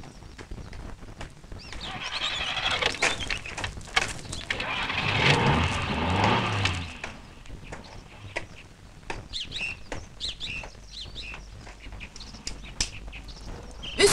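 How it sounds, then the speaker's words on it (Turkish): A car engine is started and cranks up into a rough, swelling roar that then settles, amid outdoor clatter and scattered noises. "Çalıştırın şimdi arabayı."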